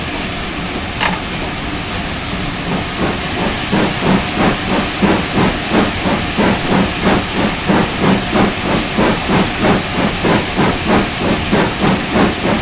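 A GWR 7800 class steam locomotive hauls a long train up Washford Bank, its exhaust beats building into a steady, rapid chuffing rhythm over a continuous hiss of steam, close and loud, with a brief whistle-like tone early on.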